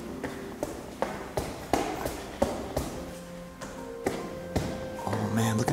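Footsteps climb the stairs of an abandoned French chateau, a steady run of firm taps and thuds echoing in the empty interior, close and moderately loud.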